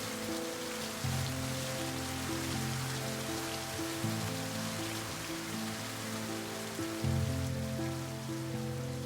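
Storm rain and wind at a French château threatening its roof, heard as a steady, even hiss of rainfall throughout, with sustained tonal music playing over it.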